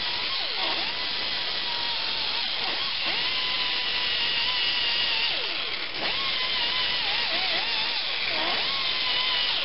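An abrasive cookie disc on a power tool cleans a part from a Tecumseh 5.5 hp horizontal-shaft engine, giving a loud, close, continuous high whine that dips and rises in pitch as the disc loads against the metal.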